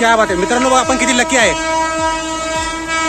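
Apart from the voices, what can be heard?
train arriving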